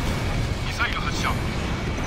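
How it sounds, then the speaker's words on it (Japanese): Missile launch and explosion from Ace Combat Infinity, with an F-15E in a Weapons Base Assault mission: a steady low rumble of engine and blast noise with a couple of brief rising tones, under continuous game audio and talk. "ミサイル発射。"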